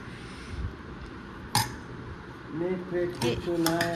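A spoon clinks against dishes while flattened rice pulao is served at home, a sharp metallic chink followed by several light scrapes and taps, close up, with people talking over it.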